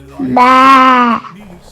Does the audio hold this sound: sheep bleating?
yes